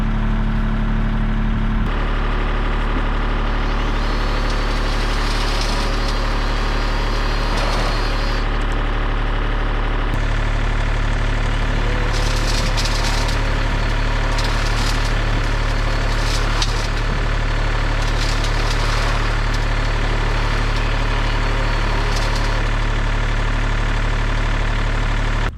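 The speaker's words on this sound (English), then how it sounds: "I'm going around with my Makita paddle sweep, and I am paddle sweeping it into the bucket" A Makita paddle sweeper runs on a gravel driveway, sweeping loose gravel mixed with grass into a bucket. Its engine drones steadily and loudly throughout the whole stretch, with scraping bursts rising over it and no talking.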